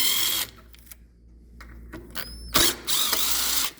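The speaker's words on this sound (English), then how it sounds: "remove the 2 screws." Screws being backed out of a patio door operating sash laid on its side: short ratcheting, clicking mechanical bursts with brief whirring, close and fairly loud, with pauses between, no talking.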